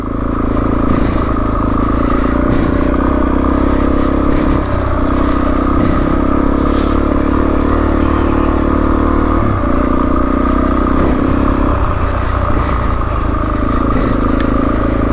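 Suzuki DRZ400E motorcycle riding off-road on a green lane in second gear, its engine droning steadily and loudly throughout with rough clattering from the rutted track, and no talk.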